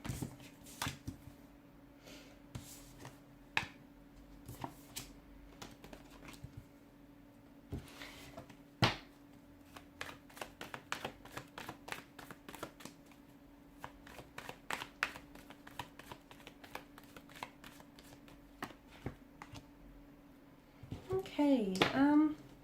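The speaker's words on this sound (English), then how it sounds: "give the cards a shuffle and begin" Tarot cards are shuffled in quick repeated riffles and taps, soft and close, continuing for a long stretch, with a brief voice near the end.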